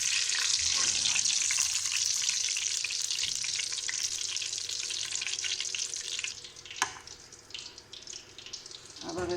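Capsicum fries in hot oil, giving a loud, continuous close sizzle that fades slightly toward the end, broken by a sharp clank of a utensil.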